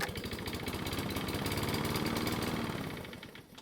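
A warm Toro lawn mower engine fires up and runs at a fast, sputtering, even putter, loud and close, then its sound drops off near the end of the few seconds.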